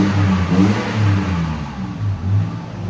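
Deep, steady revving comes from a Toyota Tacoma 4.0L V6 fitted with a Magnaflow exhaust, loud and close, with repeated throttle blips pulsing over a low rumble and no voices.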